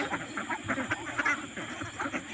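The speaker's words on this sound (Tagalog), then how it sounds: "magpapakain na po tayo ng ating mga alagang itik" A flock of pet ducks quacking and honking before feeding, a continuous overlapping chorus of nearby calls with no clear speech.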